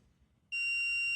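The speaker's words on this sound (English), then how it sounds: "Apologies for the beeping." A sustained, high-pitched electronic tone starts abruptly partway through and holds steady and loud until the end, after a brief quiet lead-in.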